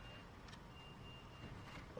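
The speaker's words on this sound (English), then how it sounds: "Someone's beeping." Faint reversing beeps from a vehicle outside, a thin regular tone drifting in through an open window over quiet room hiss.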